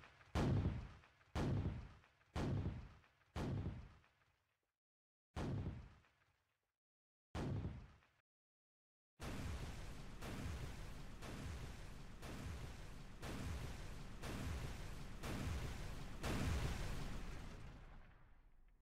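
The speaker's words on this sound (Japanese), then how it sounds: "米軍は嘉数地区に猛烈な砲撃を開始した" Artillery bombardment sound effect for a Battle of Okinawa documentary: a series of heavy, separate booms with short gaps, then a dense, continuous barrage of rolling blasts that fades at the end.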